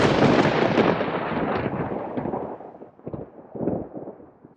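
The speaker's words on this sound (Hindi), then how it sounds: "बिजली कड़क रही थी" Thunder cracking during a rainy, windy storm, a loud rolling rumble that starts big and decays in uneven grumbling bursts, with no voices.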